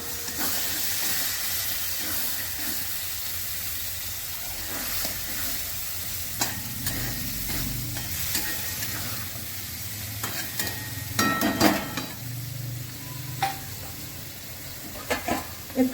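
Grated paneer cooks in a pan with steady frying sizzle and hiss, stirred now and then with scraping clatters that grow busier toward the end.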